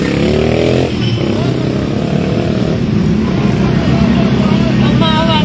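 A motorcycle engine runs loudly and steadily nearby at a road accident scene on Sauyo Road, its low rumble shifting pitch slightly, with voices talking over it.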